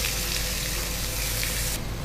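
Ground tomato chutney paste tipped into a hot tempering of oil, mustard seeds and curry leaves, frying in a loud, steady close-up sizzle that dips slightly near the end.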